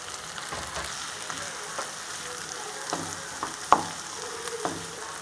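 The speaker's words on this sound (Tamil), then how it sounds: "தக்காளியும் போட்டு நல்லா வதக்கிடலாம்." Tomatoes and onions sautéing in a pan for vatha kuzhambu, a steady soft sizzle with a few scattered clicks of the spoon against the pan, close and alone with no talking.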